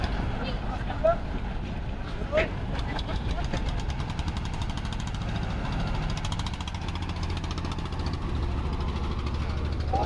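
Diesel engine of a passenger trawler boat on the river at Barishal, running steadily throughout as it carries passengers out to a waiting launch, with a low continuous rumble and occasional knocks and people talking nearby.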